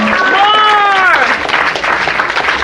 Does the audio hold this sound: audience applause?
yes